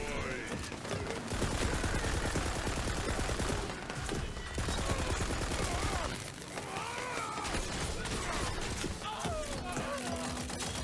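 Guns fire in the looter shooter Tiny Tina's Wonderlands as dense, rapid bursts of shots, nearly continuous for the full length with brief dips, while a voice talks over the shooting.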